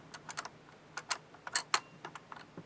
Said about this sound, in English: it's triggering the spring. You can actually hear it.